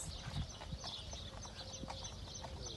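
Horses on a small farm, with faint hoof clops and rustling in quiet outdoor ambience, a distant bird or rooster call now and then, no speech.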